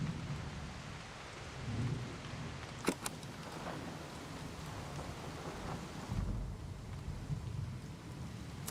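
A video game thunderstorm pours dense rain across the whole stretch, with a sharp thunder crack near the three-second mark and low rolling rumbles before and after.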